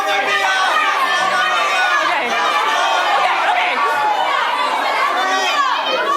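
An improv show audience shouts out overlapping musical suggestions at once, a dense, lively crowd chatter with scattered laughter filling the whole stretch.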